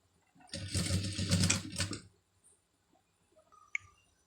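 A sewing machine stitching thread piping whirs in one short, loud burst of about a second and a half, followed by silence and a single faint click.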